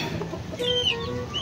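Pet chickens cluck briefly nearby, a short burst of soft clucks and a thin higher call over a steady background hum.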